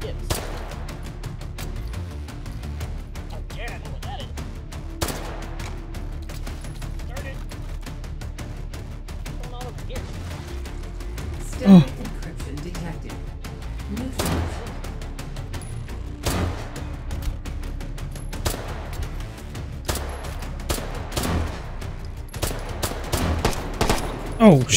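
Gunfire in the VR shooter H3VR: scattered sharp shots and bursts across a long stretch, some close and loud and others distant, with a continuous game background throughout.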